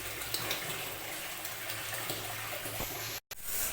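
Water running from a tap to fill a container for house cleaning, a steady close gushing splash that cuts out briefly near the end before resuming.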